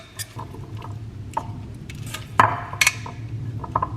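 Salad with cheese and dressing being tossed in a bowl, giving soft wet squishes and a few light clinks against the bowl, close and fairly quiet over a low steady hum.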